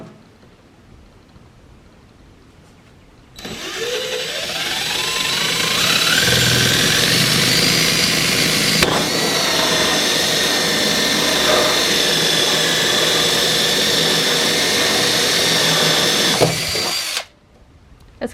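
A power drill spins up and whines steadily for over ten seconds, loud and close, then cuts off abruptly, drilling holes for grommets in a rainwater catchment setup.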